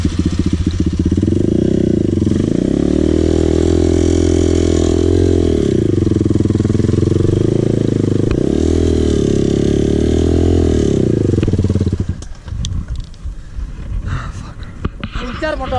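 A dirt bike engine on a trip in Bali revs up and down under the throttle, its loud, close whine rising and falling in waves before cutting off near the end.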